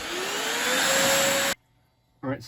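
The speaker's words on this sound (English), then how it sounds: "I'm definitely vacuuming this thing." Vacuum cleaner cleaning out a dusty Dell desktop computer, a loud steady whine with rising pitch that cuts off abruptly, leaving near silence before a brief noise at the end.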